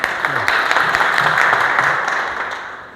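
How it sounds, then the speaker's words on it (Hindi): An audience at a safety day program applauds the station manager at Surat station, with brisk, lively clapping that holds steady and then gradually tapers toward the end. "एक बार इनके लिए जोरदार तालियां प्लीज़।"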